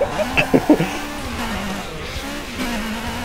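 Cars racing and crashing in the video game Burnout Paradise, with engine drone, short impact thuds and skids near the start, and a steady mechanical hum throughout.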